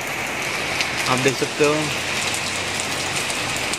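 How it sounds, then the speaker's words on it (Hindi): Heavy rain pours onto a rooftop terrace garden with guava and mango trees, a steady close hiss of drops throughout, with someone speaking briefly over it. "काफ़ी जम से बारिश हो रही है"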